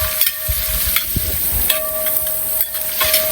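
Sliced onions sizzle in a hot pan as a spoon scrapes and clinks repeatedly, stirring them at close range.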